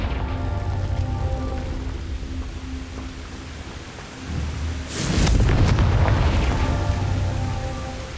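A Confringo blasting spell fired in Hogwarts Legacy lands as a sudden burst and rumbling boom midway, breaking a steady bed of rain-like ambience and game music, with the crackling roar lingering afterward.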